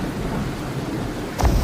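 Heavy rain pours steadily in a thunderstorm, ending in a sudden loud rumble of thunder, with no voices.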